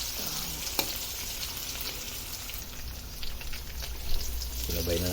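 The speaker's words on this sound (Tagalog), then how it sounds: "sinabay na natin yung luya at sibuyas." Ginger and onion sauté for a spicy chicken adobo, a soft, steady sizzle heard close up with brief utensil taps and a low voice near the end.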